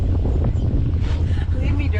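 Outdoors after an ice storm, strong wind buffets the microphone in loud, low rumbling gusts while a person talks over it.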